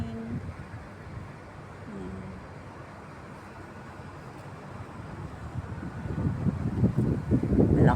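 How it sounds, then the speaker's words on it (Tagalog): Strong cold wind gusts through a backyard, a low rushing roar buffeting the microphone that swells louder toward the end, with a brief faint voice near the start. "Malakas ang hangin,"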